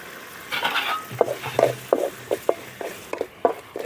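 Green moong dal curry base frying in oil in a pan, a spoon stirring and scraping in a quick, regular series of clicks over a soft sizzle, close and clear; no talk.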